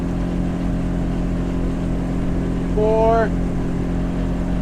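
Twin Yamaha 200 outboards on a 2021 Hewescraft 250 Alaskan boat drone loudly and steadily at speed, close and continuous, while someone speaks briefly over the engine noise.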